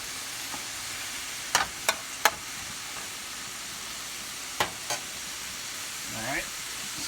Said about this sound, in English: now you can hear this start sizzling a little bit at the bottom